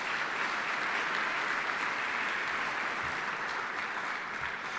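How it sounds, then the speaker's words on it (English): Steady applause from an audience at a military change of responsibility and retirement ceremony, honoring the speaker's family; dense continuous clapping holds at an even level throughout, with no voices standing out. "So let's give a round of applause to my family"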